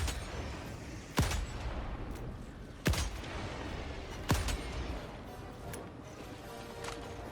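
Three widely spaced heavy shots fired in Helldivers 2, each a sharp boom that decays quickly, over a steady low background of battle noise.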